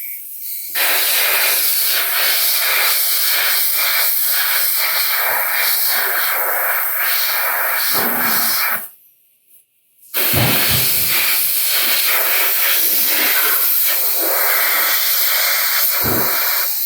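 A continuous loud hiss of spray sealer being applied to a custom quarter-scale Thor sculpture, running steadily with one short break before resuming.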